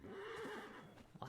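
A horse gives a short, close whinny, one wavering neigh lasting about a second.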